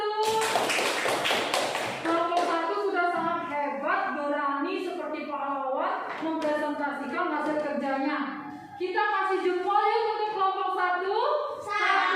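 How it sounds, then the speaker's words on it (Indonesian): Classmates in a classroom give a short burst of clapping for a student group after a presentation, then children's voices talk and chatter for the rest of the time. "Tepuk tangan untuk kelompok 1."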